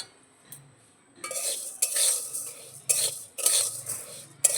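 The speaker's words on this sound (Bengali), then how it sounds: "এরকম কিন্তু অনবরত নাড়া দিতে হবে" Raw rice dry-roasting in a pan over medium heat for puffed rice, with bursts of scraping and rustling stirring that start after a second of near quiet and repeat in uneven surges, close and fairly loud.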